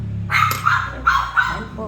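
Household dogs barking in a Filipino home kitchen, a few sharp close barks in quick succession, loud and near, with a person talking over them.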